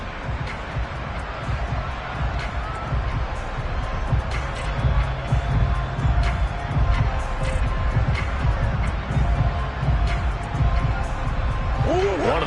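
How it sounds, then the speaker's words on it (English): Stadium crowd roar swelling ahead of a big third-down play in a football game, a dense, steady wash of noise with a commentator talking over it throughout. "The crowd getting into it as we come up on a big 3rd down."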